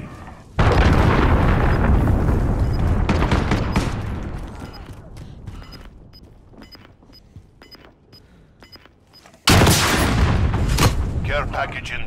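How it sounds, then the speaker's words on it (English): A cruise missile explosion in Call of Duty Modern Warfare: a huge, loud blast erupts suddenly, rumbles and fades over several seconds amid scattered gunfire, then a second heavy blast slams in near the end. "Allied cruise missile away"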